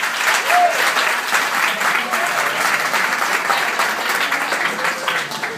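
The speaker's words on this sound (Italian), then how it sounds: "fate un applauso" Steady applause from a comedy club audience at Cab 41, dense continuous clapping filling the room for several seconds at an even level, with a few faint voices mixed in.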